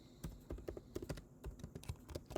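Quick, uneven keystrokes patter on a computer keyboard, close and fairly quiet, with short bursts and brief pauses between clicks.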